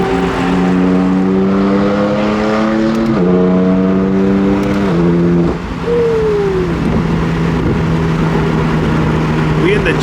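A BMW M4 GTS engine drones loudly from inside the cabin while driving, its pitch stepping up and dropping with gear changes, and a voice talks over it.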